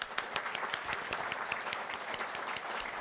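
Conference audience at a manufacturing industry address gives a steady round of applause, many hands clapping in a dense even patter, moderately distant and unbroken, with no talking over it.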